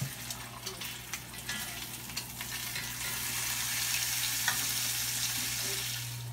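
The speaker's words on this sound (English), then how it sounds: "Don't mind my caramelized onions on the stove." Onions caramelize on the stove with a soft, steady sizzle and a low constant hum, a few light clicks and knocks early on, fairly quiet.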